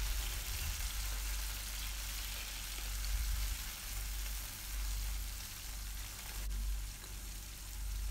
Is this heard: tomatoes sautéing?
yes